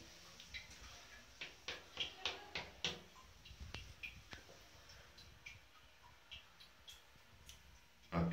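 Quiet, irregular drips of water fall in a village hall gents toilet, with soft ticking taps spaced unevenly against a hushed background and a louder knock at the end.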